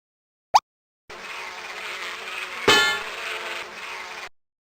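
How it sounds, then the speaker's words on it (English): Honeybees buzzing around a farm beehive in a children's video game, a steady dense insect drone that runs for a few seconds after a brief chirp, swelling briefly in the middle before cutting off. "The bees on this farm live in a beehive the farmer made for them."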